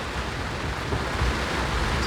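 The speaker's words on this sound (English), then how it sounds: "bit of a rain shower going on. As you can see, the rain is quite horizontal." Rain shower blowing almost horizontally across a sailing boat on the passage from Martinique to St Lucia, a steady soft hiss of rain and wind throughout.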